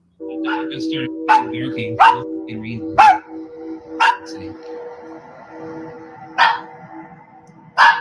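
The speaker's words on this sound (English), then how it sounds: "he decides to start recording one night after hearing his dog barking" At night, a dog barks sharply several times at irregular intervals, loud and nearby, over a steady low hum.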